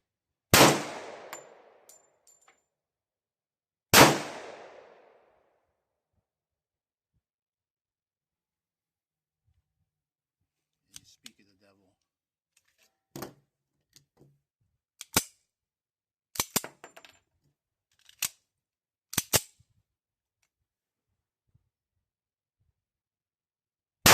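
Gunshots from a restored 1954 Colt 1911 pistol at a range: two loud close reports open, then after a quiet gap a scattered string of sharper, shorter shots and clanks, unevenly spaced.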